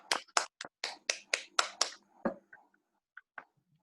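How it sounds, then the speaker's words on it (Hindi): A crowd applauding at a business event for its directors: a burst of about eight sharp claps in quick rhythm, tailing off into a few scattered, fainter claps. "मैं चाहती हूँ ऐसे हमारे डायरेक्टर्स के लिए एक जोरदार सा ताली"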